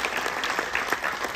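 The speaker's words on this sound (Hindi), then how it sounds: "तालियां एक बार जोरदार बजा दीजिएगा।" Audience applause at a Hindi kavi sammelan comedy poetry event, a dense steady clapping from a crowd throughout, moderately loud with no talk over it.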